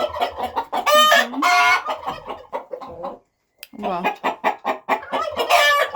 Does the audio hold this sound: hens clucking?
yes